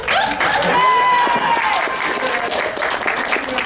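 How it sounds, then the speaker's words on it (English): Open mic audience at a furry convention claps loudly, sustained dense applause with some cheering and a whistle, while voices carry over the clapping. "give a round of applause for the internet"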